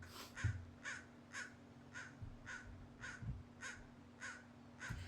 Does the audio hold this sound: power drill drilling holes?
no